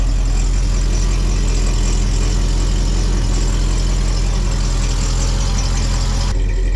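Engine of a 1974 Ford truck idling with a rattle, heard as a loud, steady, close rumble that runs without a break and is not joined by any voice, cutting off just at the end.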